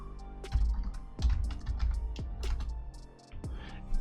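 Typing on a computer keyboard, with a rapid series of close, crisp key clicks and thumps in an uneven rhythm and a brief pause near the end.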